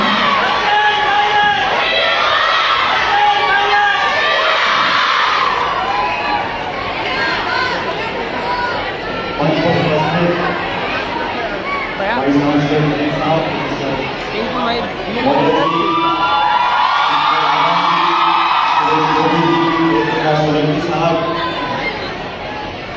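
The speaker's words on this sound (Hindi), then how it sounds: "आमंत्रित करता हूं अब्दुल खालिद साहब को, और सभी की जोरदार तालियां उनको बुलाती है" An audience in a Jaipur college hall cheers and shouts, with loud whoops and many overlapping voices swelling in waves over about twenty seconds.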